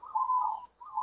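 A newly arrived zebra dove (perkutut) kept as a cage bird cooing, a soft, clear, tonal coo in two short parts with a brief break between them, close by and alone.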